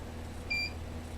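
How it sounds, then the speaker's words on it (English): A single short electronic beep from a Synology RS2416RP+ NAS under repair, clear and steady, sounding once over a low background hum. "It's going to beep again."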